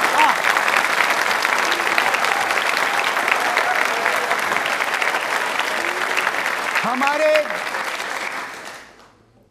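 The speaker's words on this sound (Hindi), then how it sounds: "मुख्य अतिथि हैं, तालियां जोरों से बजाइए उनके सम्मान में" A school audience at a quiz show gives loud, sustained applause in honour of the chief guest, the food minister, with a few voices over it before the clapping fades out at the end.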